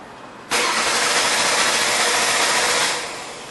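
A 2003 Ford Taurus with the high-output 24-valve engine cranks without firing because of a no-spark fault. The starter whirs loudly and evenly for a few seconds, then winds down without catching.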